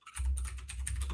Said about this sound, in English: Whoever's typing, please mute yourself.